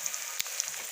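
Eggs sizzling as they go into hot oil in a frying pan, a steady crackling fry with a few sharper pops, close and alone.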